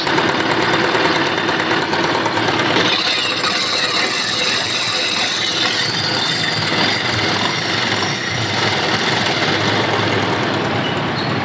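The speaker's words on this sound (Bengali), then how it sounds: "বাইকটা স্টার্ট করলাম, আপনারা ইঞ্জিনের সাউন্ডটা শুনেন।" Motorbike engine started and left idling, a loud continuous mechanical rattle and chug held steady close by for the whole stretch.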